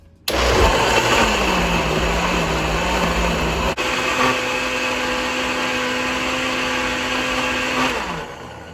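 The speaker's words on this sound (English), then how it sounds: "Then blend the onions and the red bell pepper, also set them aside." An electric blender purees onions and red bell pepper for Nigerian egusi soup, a loud steady motor whir that starts abruptly, drops pitch briefly midway, and runs continuously for about eight seconds before winding down.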